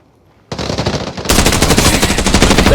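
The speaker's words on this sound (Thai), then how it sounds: "โอ้ยมันมันยิงเร็วมาก" Rapid automatic gunfire in the shooter game Arena Breakout Infinite, a loud continuous burst starting after a short quiet moment and growing denser and louder, with overlapping shots from a close exchange of fire.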